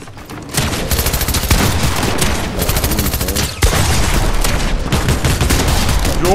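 Dense Fortnite firefight with loud, sustained volleys of rapid gunfire and occasional booms, nearly continuous with one brief gap partway through.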